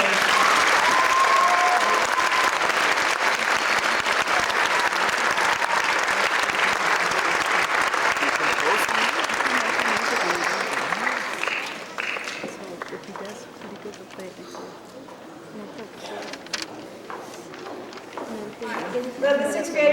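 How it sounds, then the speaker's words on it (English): An audience bursts into loud, sustained applause for beginner orchestra students at a high school orchestra awards ceremony, the clapping thinning and fading toward the end, with faint voices. "let's give them applause."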